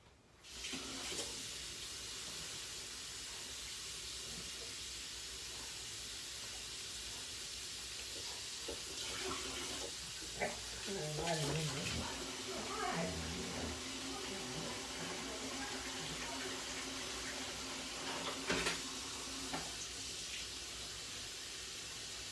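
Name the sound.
rinsing food processor under running tap water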